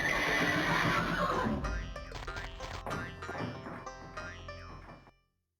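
A horse in the horror-western video game Alone in the Dark 3 gives a loud, drawn-out whinny, followed by several sharp knocks and thuds that fade into silence.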